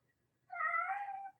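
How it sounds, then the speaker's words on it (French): A domestic cat gives one clear, drawn-out meow close by in a quiet indoor room, with no talk over it. "C'est mon chat que vous entendez."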